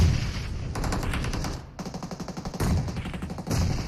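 Rapid automatic gunfire in PUBG Mobile rattles out in several close, loud bursts, with a brief pause between volleys and no talking over it.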